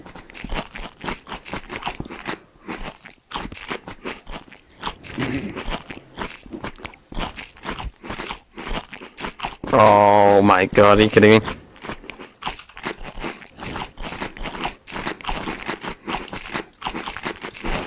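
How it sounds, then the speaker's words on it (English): Several people munching and crunching donuts, with chewing and crunchy bites close up, a loud crinkling burst partway through and people talking over it. "Oh, everybody eat the donuts quickly."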